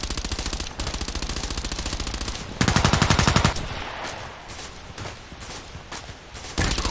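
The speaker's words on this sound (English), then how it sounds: "I feel like I'm getting shot at." Video game gunfire in Contract Wars: loud, rapid automatic bursts fired close by, with a short pause and then a heavier burst, followed by scattered fainter shots and footstep-like sounds.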